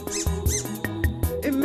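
A squeaky dog toy for a Golden Retriever squeaks in quick repeated bursts beneath a sung melody, the squeaks blending into the loud, rhythmic music.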